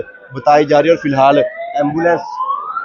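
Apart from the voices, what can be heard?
ambulance siren at civil defence mock drill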